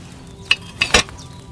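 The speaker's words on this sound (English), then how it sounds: "Hear that bubbling? It's boiling." A potion cauldron over a flame in Kingdom Come: Deliverance 2 bubbles, giving three quick, close pops in under a second over a faint hiss.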